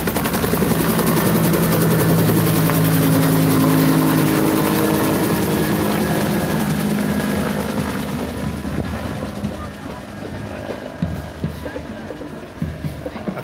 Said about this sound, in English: the Huey's taking off again